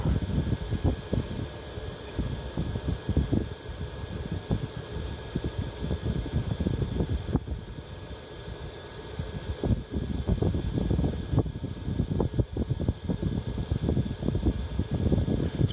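Diesel heater running inside a VW T4 Transporter, a constant breathy fan roar with an irregular low rumble and ticking from the burner, heard steadily throughout with no one talking.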